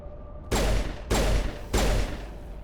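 Three sharp, loud pistol shots from Mass Effect, evenly spaced about half a second apart, each a hard crack with a short ringing tail, no voices.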